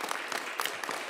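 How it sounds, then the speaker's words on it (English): A crowd at a mayoral small-business announcement gives a brief, steady burst of applause for partner organizations, fairly soft and dense. "Please join me in giving a round of applause to our amazing,"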